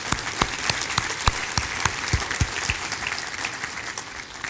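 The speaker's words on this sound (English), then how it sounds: "give them all a big round of applause" Steady applause from a conference audience honoring the executive leadership summit speakers, a dense continuous patter of many hands with a few sharper individual claps standing out, moderately loud and even throughout.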